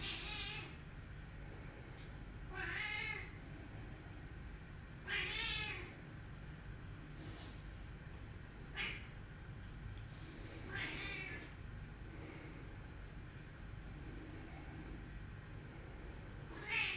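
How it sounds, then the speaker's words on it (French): A cat meows several times at chickens in short, harmonic calls spread across the stretch, moderately close over a steady low background hum. "C'est mon chat qui râle contre les poules"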